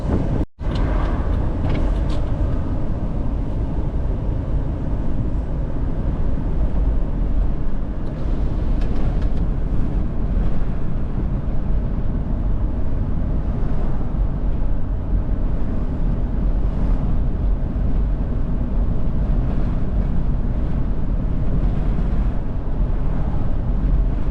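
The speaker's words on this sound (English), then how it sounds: "This wind is actually a lot stronger than I originally thought it was" Strong wind blasts across an Outer Banks beach in North Carolina, roaring steadily into the microphone for the whole stretch with a low heavy rumble and no voices.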